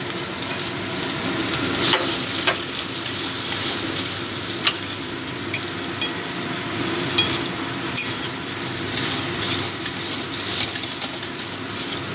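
Ginger-cumin paste and chopped tomato sautéing in a pan for a duck egg curry: a continuous close crackling sizzle with regular spatula scrapes and taps, steady and fairly loud, with no voices.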